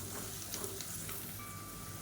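Ginger garlic paste with turmeric and garam masala sautéing in hot oil in a pan, a soft continuous sizzle with occasional light stirring, steady and fairly faint with no talking.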